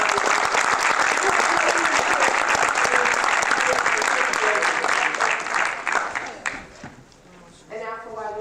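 Dense, sustained audience applause for student athletes at a Board of Education public session, loud and continuous before fading out near the end as a voice begins speaking.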